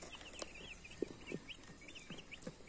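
Fifty newly arrived baby chicks in a box give off scattered high, thin peeps, with a few louder individual calls standing out over a soft, busy background chatter.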